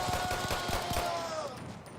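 Rapid bursts of gunfire in Battlefield 1 on the Lupkow Pass map, a dense run of close, repeated shots with a steady rhythm and no gaps.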